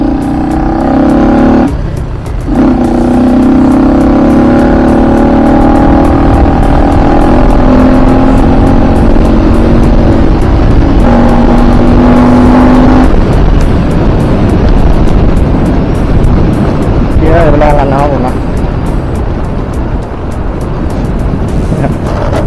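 A Honda Wave 110i motorcycle with a one-year-old clutch modification revs hard, its engine droning loud and close, climbing and dropping in pitch as it is ridden along a straight road.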